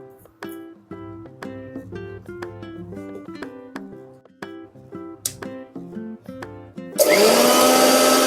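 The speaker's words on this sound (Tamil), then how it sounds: "ஒரு அளவு மிக்ஸி ஜார்லேயே போட்டு அரைச்சிக்கலாம்" A mixer grinder roars into loud, harsh whirring near the end, after several seconds of rhythmic tapping and clattering sounds up close.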